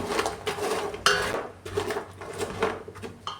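Close scraping and clinking of a utensil against a pan as fried plantain is mixed into jaggery, several uneven knocks and scrapes over a few seconds with no talk.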